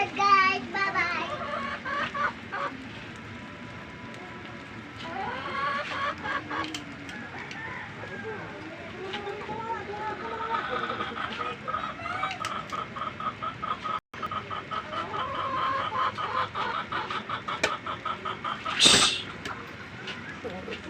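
Chickens cluck and chatter nearby in an outdoor yard, with repeated clucks and calls over a low background, and people talk at times.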